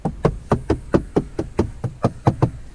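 Knuckles rap on hard interior trim inside a Fiat car, about a dozen crisp, evenly spaced knocks in quick succession, loud and close with no talking.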